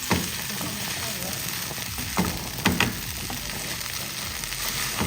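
Pineapple jollof rice sizzles steadily as it fries in a pot, with a couple of brief scraping knocks from a spoon stirring it. The sound is close and continuous, with no talking.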